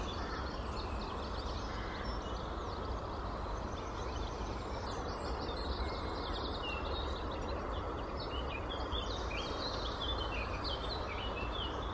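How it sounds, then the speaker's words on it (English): Birdsong at sunrise, several birds chirping and calling at a distance over a steady broadband outdoor background, continuous throughout with no talking. "Listen to the bird song."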